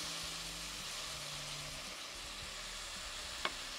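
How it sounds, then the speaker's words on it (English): Swordfish fries in a pan with a soft, even sizzle throughout, a low hum underneath and one brief sharp tick near the end. "this is my first time actually cooking swordfish"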